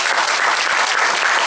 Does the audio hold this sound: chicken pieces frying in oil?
no